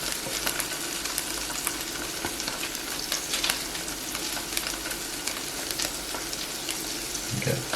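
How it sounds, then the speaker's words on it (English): Salmon and aubergine frying together in a pan, giving a steady, dense crackling sizzle with scattered pops, close and continuous throughout. "I'm going to do the salmon. It's just sizzling."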